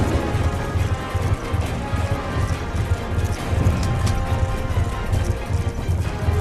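Rhythmic hoofbeats of a galloping horse in Black Ops II game audio pound steadily and close, a continuous clip-clop over a busy background rumble.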